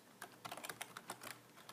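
Quick, light clicking of a computer keyboard being typed on, an irregular burst of keystrokes, close but quiet, with no talk.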